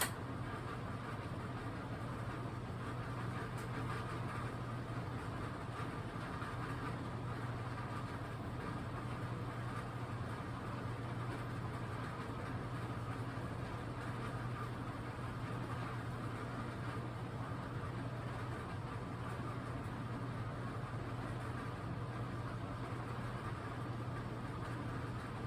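A KDK industrial ceiling fan runs at its slowest setting, making a low steady hum with a soft airy whoosh, quiet and unchanging throughout.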